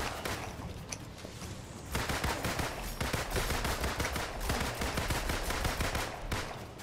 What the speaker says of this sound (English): I'm shooting his head, that's what I'm doing.